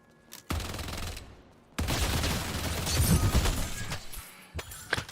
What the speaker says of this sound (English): Fern, were you shooting at that reju for a while before you finally realized you had to melee it?